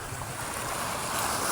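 Sea waves wash steadily in a brief, wind-buffeted stretch of surf, a broad, continuous rushing sound with no voices.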